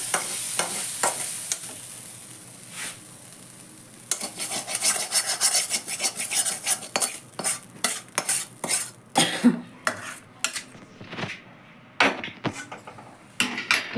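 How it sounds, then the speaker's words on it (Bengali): Potatoes, onions and spice paste fry in a pan for fish chachchari while a spatula stirs and scrapes them, giving a steady sizzle broken by rasping strokes that turn choppier and louder toward the end, with no talking. "আমার আলু পেঁয়াজ মশলা খুব সুন্দর ভাজা হয়ে গেছে"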